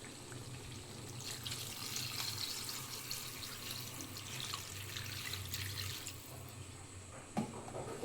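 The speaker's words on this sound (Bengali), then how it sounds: "এর মধ্যে আমি পরিমাণ মতন পানি দিয়ে দিচ্ছি।" Water pours steadily into a pot of cooking meat as a quiet, continuous splashing stream.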